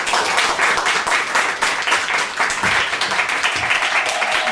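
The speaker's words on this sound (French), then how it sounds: "Si vous pensez qu'elle doit être innocentée, applaudissez maintenant." Theatre audience at a long improvised play applauding to vote a character innocent, a dense steady wash of clapping throughout with no talk.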